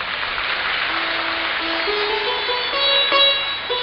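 Light, thin applause from a seated audience at a Bhagwat Katha religious discourse in Siliguri, a soft steady patter of clapping that swells slightly near the end while a faint tonal melody plays underneath.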